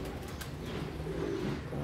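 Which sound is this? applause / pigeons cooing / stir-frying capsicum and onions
pigeons cooing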